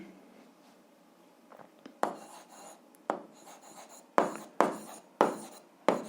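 Pen writing an equilibrium equation for an 8th-grade physics exercise: soft scratchy strokes, then a series of sharper scrapes and taps from about two seconds on, close and fairly quiet with no talk.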